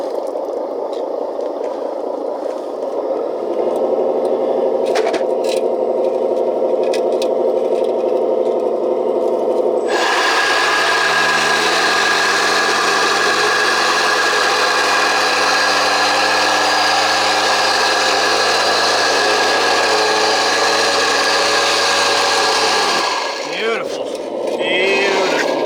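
A small RC model roller compacts a QUIKRETE blacktop asphalt patch, its engine droning steadily and loudly close up for the whole stretch, with a shift in tone partway through and people talking over it.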